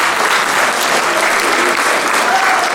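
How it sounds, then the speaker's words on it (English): A crowd at an elementary school arts awards ceremony fills the room with loud, sustained applause, a steady wash of many hands clapping together without pause. "Let's give them a round of applause"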